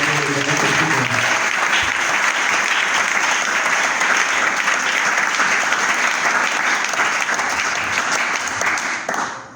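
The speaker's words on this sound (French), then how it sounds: "Est-ce que tu peux acclamer le Seigneur?" A church congregation bursts into sustained, loud applause and cheers of praise for the Lord, a dense wash of clapping that holds steady before fading at the end.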